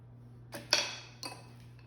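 Several light metallic clinks and scrapes sound as an offset spatula is handled against a dish, close and quiet, with one sharper tap in the middle.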